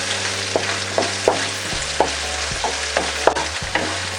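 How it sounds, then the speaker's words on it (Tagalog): Onion and garlic sauté in a pan with browned beef, giving a steady sizzle under regular stirring scrapes and soft clicks of the spatula, close and moderately loud with no talking. "So, pwede na nating gisahin itong ating sibuyas."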